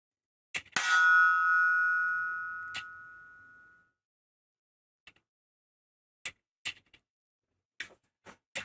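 A metal book divider is struck once and rings out with a bright, sustained metallic tone that fades over about three seconds. Short taps and clicks follow, sparse and close, in an otherwise quiet room.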